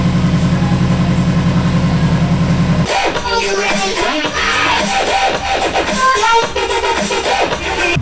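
A Subaru WRX rally car engine, mid-build, running loud and close, a steady low idle that shifts into a rougher, busier rumble partway through, with no talk over it.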